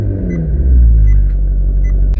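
Maserati GranTurismo driving, a deep steady engine rumble heard from inside the car, loud and close with no talking.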